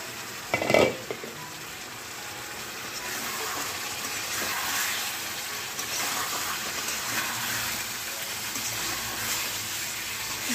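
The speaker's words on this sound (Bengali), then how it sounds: "এখন আমি আলুটা দিলাম, এটা দিয়ে আরও ভেজে নেব 3-4 মিনিট।" Potatoes fry with chicken in a pan for a spicy chicken curry, giving a soft, continuous sizzle, with a sharp clatter near the start and then a low, even hiss.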